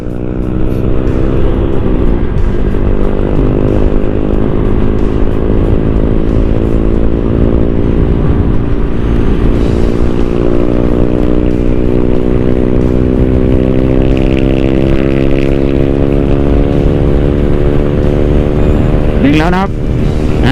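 A Honda Click160 scooter with a 4-valve engine accelerates, its engine note rising steadily in pitch as the revs climb, loud and close with continuous wind rush throughout.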